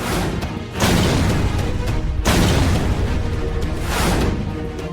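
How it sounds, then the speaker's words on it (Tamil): Loud booming blasts burst out one after another, three or four heavy explosions with crackling, rumbling tails between them. "வெடிக்கிற சத்தம் கேக்கும்."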